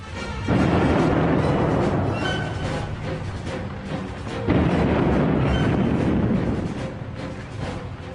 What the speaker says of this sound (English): the leading British tank, the Mail, opened fire with its 6-pounder gun, but missed